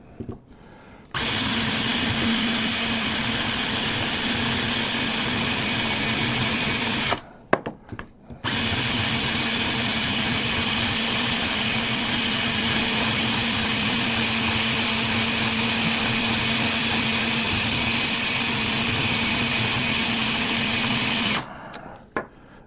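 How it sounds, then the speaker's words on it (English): A power grinder shapes a metal paracord fid down to a rounded point, with a loud, steady motor whine for about six seconds, a brief stop, then another long continuous run. "You simply need to grind it down until it has a rounded off point."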